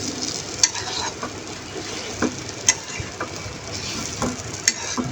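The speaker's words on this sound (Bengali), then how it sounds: "আলুটা দিয়ে ভালো করে নেড়ে চেড়ে 2 থেকে 3 মিনিট এভাবে নেড়ে চেড়ে জাল করে নামিয়ে নিব।" Potato filling with spices stirred and fried in a pan, a steady sizzle running throughout with periodic sharp scrapes and clinks of the spatula against the pan, no voices.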